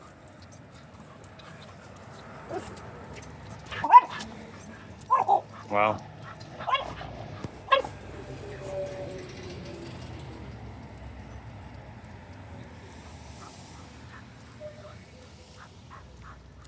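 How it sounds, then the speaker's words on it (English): Neighbours' dogs outdoors give a few scattered barks and yips, moderately close and sharp against a quiet background, with a brief spoken word among them. "All of the neighbors seem to have their dogs out right now."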